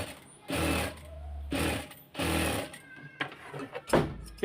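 A sewing machine stitches fabric over rope to make piping, running in three short loud bursts with light clicks and handling noises in between.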